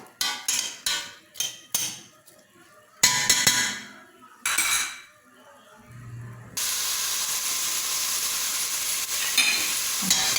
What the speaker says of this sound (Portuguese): A cebola já tá fritando